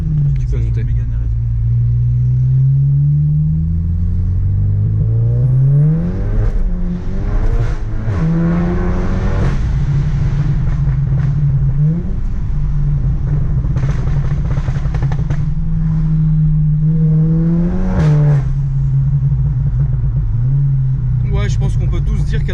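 A Renault Mégane RS with an external dump valve revs its turbo engine hard and close, climbing and dropping repeatedly with deep rumble and whooshing releases, while people talk nearby.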